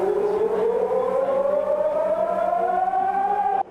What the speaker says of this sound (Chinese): 开始有警报声